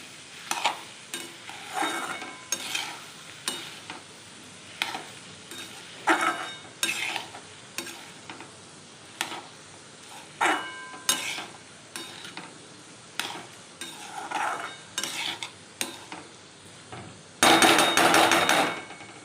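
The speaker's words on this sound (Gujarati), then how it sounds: "ત્યારબાદ તેને બરાબર હલાવી લઈશું" Dry potato curry is stirred in a pan, a spoon or spatula knocking and scraping against the metal in irregular clacks over a faint sizzle, then a short burst of louder frying near the end.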